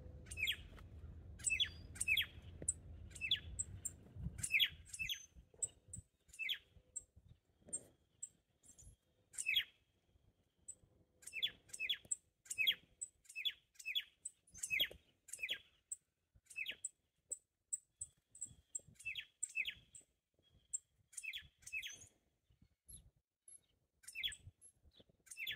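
Tufted titmice sing repeated short, whistled phrases, clear and fairly close, with rhythmic bursts continuing over a quiet background after a brief low rumble.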